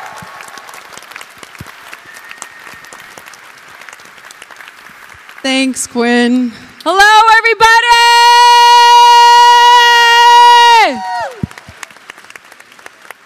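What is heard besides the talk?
audience applause welcoming the moderator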